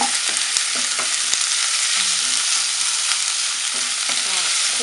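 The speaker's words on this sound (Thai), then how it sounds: "หมูเราสุกแล้วเราก็ใส่ลงไปเลยพริกหวาน" Bell peppers stir-fried with cooked pork in a pan, a steady loud sizzle with scraping stirring strokes throughout, no talking.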